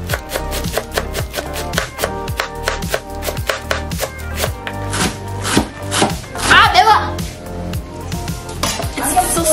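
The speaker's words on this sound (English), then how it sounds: "So chop the onions." A knife chops onions on a board in rapid, even strokes, sharp close knocks repeating for several seconds, with a brief burst of voice partway through.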